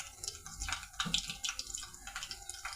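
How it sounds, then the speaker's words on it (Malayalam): Mustard seeds pop and splutter in hot oil in a pan for Kerala-style thiyal, a busy crackling sizzle with bursts of sharp little pops, close and moderately loud. "കടുക് ഒന്ന് പൊട്ടട്ടെ."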